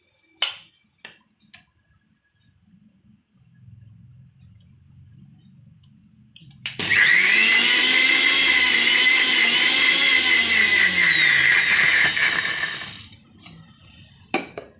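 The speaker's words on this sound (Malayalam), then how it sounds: "വെള്ളം എടുത്ത് നമ്മൾ അരയ്ക്കണം." After a few light clicks and knocks, a mixer grinder switches on and whirs loudly and steadily for about six seconds as it grinds masala with a little water, its pitch dipping and rising before it winds down.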